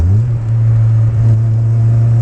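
The engine of a 1985 Honda CRX Si hums loudly and steadily from inside the cabin, a close, constant low drone while the car is driven through a clutchless downshift.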